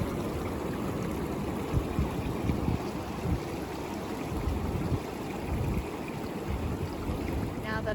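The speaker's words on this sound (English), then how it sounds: "Here is the water source, Jackson Creek." Jackson Creek flows near a backpacking camp on the Olympic coast, giving a steady, continuous rushing and burbling of water, close and fairly loud, with no voices.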